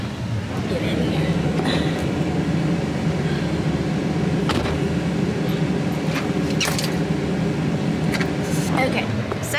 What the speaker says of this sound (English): sorry guys if you guys can hear the heater in the car, but it is blasting because it's so cold outside